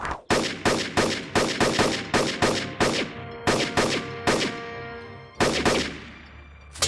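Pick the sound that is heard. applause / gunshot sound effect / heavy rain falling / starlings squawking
gunshot sound effect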